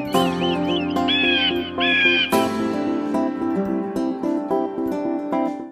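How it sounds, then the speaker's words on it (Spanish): Parakeets and parrots at a zoo give loud, shrill, warbling calls close by, layered with chattering and a dense, continuous bird din. "aquí estamos viendo ahora los periquitos"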